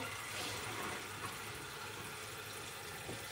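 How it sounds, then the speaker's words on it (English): Hot water runs from a kitchen tap in a steady, soft, continuous rush that stays even and faint throughout, with no one speaking. "So I put my running hot water because nobody has time to boil."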